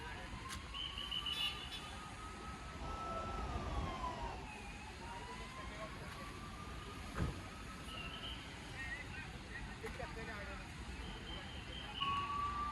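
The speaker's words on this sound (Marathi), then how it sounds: "गाड्या यायला लागल्या आता." Traffic on a blocked highway, on a road trip from Pune toward Goa, starts moving again: a steady rumble of passing vehicles with siren-like wails rising and falling over it and voices talking nearby.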